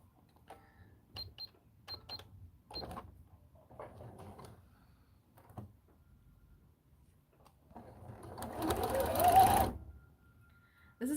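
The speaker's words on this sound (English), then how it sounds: "I'm going to tack it down first, meaning I'm just going to stitch it down" A sewing machine briefly whirs near the end, tacking down costume fabric for a Belle princess costume, after scattered quiet clicks and handling sounds, fairly faint and close.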